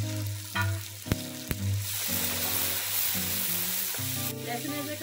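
Garlic-ginger paste drops into hot oil with frying onions for a Karachi-style chicken biryani, setting off a loud, steady sizzle up close, with a few sharp stirring clicks near the start and no voices.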